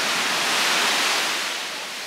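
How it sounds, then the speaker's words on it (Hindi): Ocean waves wash up the beach at Gokarna, Karnataka, a steady, loud, hissing rush of surf and foam that fades slightly toward the end, with no voices. "ये देखिए पूरी वेव ऊपर तक आ जा रही है।"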